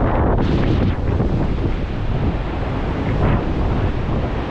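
Strong wind buffets the microphone, producing a loud, continuous roaring rumble with gusty surges throughout and no voices.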